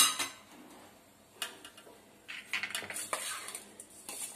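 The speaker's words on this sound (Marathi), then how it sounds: "चांगलं असं मिक्स करून घेऊया फोडणी द्यायच्या आधीच." Sabudana khichdi ingredients being stirred together in a bowl before tempering, with scattered clinks and scrapes of a spoon against the dish coming in short irregular bursts, close and fairly soft, with no talking.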